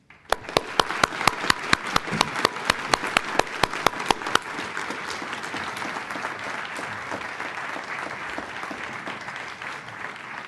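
An audience applauds to welcome a lecturer, opening with a burst of sharp, distinct loud claps that blur into a thick, steady wash of clapping as the crowd joins in and keeps going.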